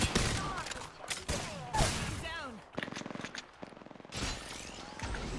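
Rapid bursts of video game gunfire and fusillades crackle in the foreground, several volleys in a row, mixed with game effects and someone talking over them.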